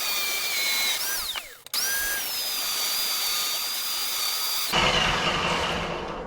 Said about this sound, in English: I've got my precision grinder. I'm just going to come here and cut that.